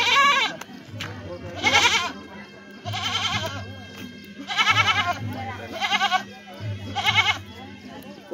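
Goat bleating at a lively outdoor panche baja dohori performance in Nepal, with several loud wavering bleats in separate bursts over a low droning background.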